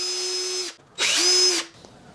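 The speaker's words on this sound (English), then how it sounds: "Grab our drill with the 8mm bit." A power drill fitted with an 8mm bit, used on a Honda CB 500 motorcycle handlebar job, whirs in two short close bursts, each spinning up to a steady whine and stopping, with a brief pause between them.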